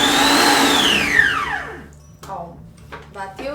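A high-speed electric mixer whirs loudly as it beats eggs into butter and sugar for a chocolate naked cake, its pitch sliding down as it winds to a stop, after which a voice speaks.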